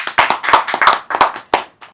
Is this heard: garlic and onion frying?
no